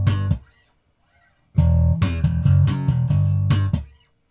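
Bass guitar with slightly worn strings played for a tone test in a music shop: a few plucked notes, a pause, then a run of sustained, punchy low notes that ring out and fade, with no voices.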